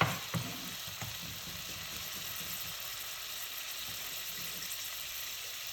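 Garlic sizzles steadily in a pot as the base for a one-pot seafood soup, a continuous hiss of frying with a few faint stirring knocks near the start.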